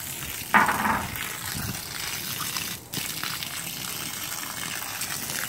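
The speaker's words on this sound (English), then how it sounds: "I'm going to take each piece out and rinse it individually and set it aside to dry." Pieces of a quarantine tank are rinsed under running water, giving a steady close gush and splash with a brief clatter early and a short break near the middle; no talk.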